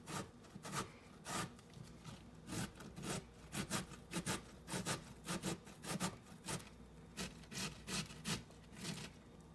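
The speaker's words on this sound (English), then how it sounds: "We're just going to use this little grater and grate up our zucchinis." Zucchini is rubbed down a small handheld grater in quick, even strokes, each one a short scratchy rasp, repeating in a regular rhythm close to the microphone, soft overall and with no voices.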